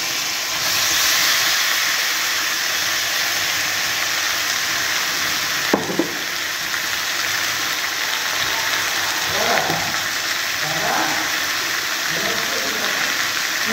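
Peas masala fries in a pan with a constant sizzling hiss, while a spatula scrapes and stirs in a few short bursts.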